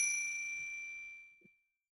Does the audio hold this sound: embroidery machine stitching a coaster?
no